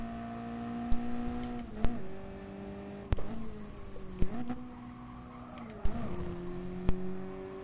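A Mazda MX-5 engine drones steadily uphill at limited speed in a Gran Turismo Sport race, its harmonic hum shifting with repeated gear-change blips and sharp transient knocks throughout.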